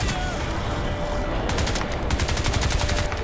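Gunfire in the video game Crysis 2 on Xbox One, a loud, dense automatic burst of rapid shots that grows more rhythmic and clipped toward the end, with no voices.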